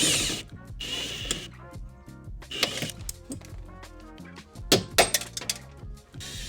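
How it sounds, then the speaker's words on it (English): Metal punching and drilling work out rivets on a Mercedes W220 door lock, sharp clinks and taps with short bursts of drill whine, close and irregular. "To get the rivets out, I used a small punch on the center first, then drilled out the head."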